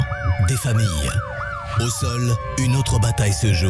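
An ambulance siren wails in a looping rise-and-fall pattern throughout a French-language radio advertisement for Magen David Adom emergency medics in Israel, with someone speaking continuously over it.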